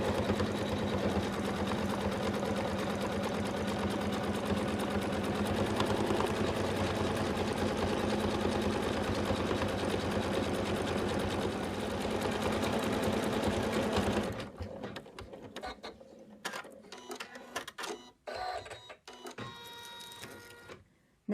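An embroidery machine sews a satin stitch on an in-the-hoop Santa bib, a loud, dense steady whir running unbroken for about fourteen seconds before stopping, followed by quieter intermittent clicks and handling sounds.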